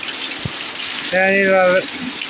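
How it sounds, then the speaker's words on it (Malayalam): Floodwater from heavy rain rushes across a field in a constant broad gush, interrupted briefly by a short spoken voice partway through. "അപ്പുറത്തെ പറമ്പിൽ നിന്നൊക്കെ വെള്ളമാണ് ഒഴുകുന്നത്"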